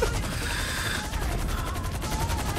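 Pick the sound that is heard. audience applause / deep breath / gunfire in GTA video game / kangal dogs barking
gunfire in GTA video game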